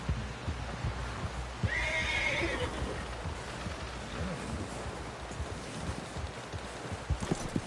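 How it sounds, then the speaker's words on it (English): In a PS4 video game, a horse gives a clear whinny amid soft, scattered hoof clops and low ambient hum, fairly faint overall, with no talk. "Someone help help John down off this horse."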